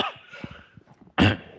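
A single loud, harsh cough bursts out near the end, preceded by quieter breathy rustling and soft low thumps.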